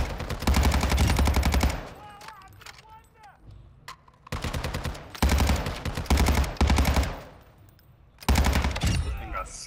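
Heavy-recoil gunfire in the video game DMZ: loud sustained automatic bursts, three main strings of rapid shots separated by short pauses, with quieter game sounds between.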